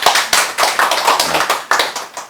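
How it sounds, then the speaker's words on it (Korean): Audience clapping at a lecture hall session, close and lively with distinct sharp hand claps in an uneven rhythm, no talk over it. "박수 한번 쳐주세요"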